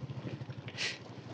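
A motorcycle engine runs steadily while being ridden on a road in Pakistan, a low continuous drone with a brief burst of hiss partway through.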